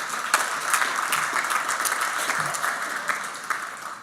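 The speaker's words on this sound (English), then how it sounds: "how about a big clap for that?" An audience claps together at a meeting marking Boulder's 100th anniversary, a sustained patter of applause at moderate loudness that continues for several seconds.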